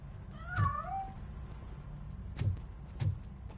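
A cat gives a single short meow while escaping in RoboCop: Rogue City, followed by a few soft thuds and clicks against a quiet low rumble.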